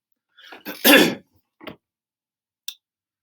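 A person clears their throat with a couple of rough, gravelly bursts, followed by a short cough-like huff and a faint click in otherwise quiet surroundings.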